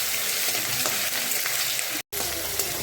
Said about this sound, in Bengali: আলুটা ভেজে দেবো।